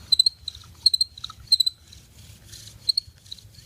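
Cricket chirping outdoors in short high-pitched trilled bursts that repeat in a steady rhythm, moderately close over a low rumbling background.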